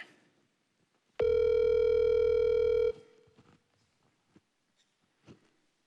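A telephone ringback tone sounds once, steady and loud for nearly two seconds, while a call goes through to a customer service line, followed by faint clicks and low background noise.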